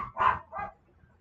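A dog gives two short, sharp barks in quick succession, fairly close and clear, followed by a quiet room.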